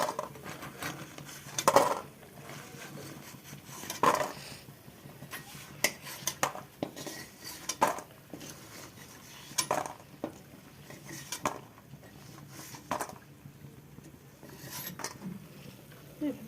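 Fried lentil dumplings (bori) being lifted out of a pan in a Bengali home kitchen: a metal spoon scrapes and clinks against the pan in scattered sharp knocks over a quiet background.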